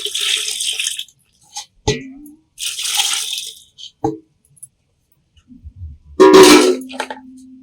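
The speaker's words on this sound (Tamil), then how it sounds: "எக்ஸ்ட்ரா கொஞ்சம் தண்ணி சேர்த்துட்டேன்" Water splashes and trickles in short bursts, poured into a pot while making a cleaning bio-enzyme, with a few clinks and quiet pauses between pours.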